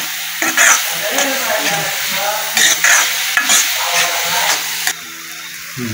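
Onion frying in a little oil, stirred in a village kitchen in Kokan, with a steady sizzle and repeated scraping stirs close by, as a voice talks over it.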